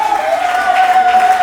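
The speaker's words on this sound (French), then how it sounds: "Est-ce qu'on peut l'applaudir, ce monsieur?" Short burst of steady applause from guests for the groom at a wedding reception, dense clapping with a thin ringing tone running underneath.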